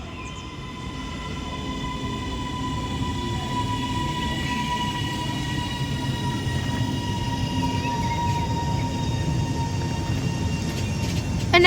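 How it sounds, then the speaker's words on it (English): A Northern Class 331 electric train arrives at a platform, a steady rumbling roll with a high electric whine and faint squeals, growing gradually louder as it draws in. "now arriving into platform 1 is going to be another Northern Class 331 from Manchester Airport"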